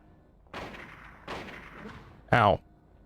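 Rifle shots in Silent Hill ring out three times, each a sharp loud crack with a short decaying tail, separated by brief pauses over a quiet background.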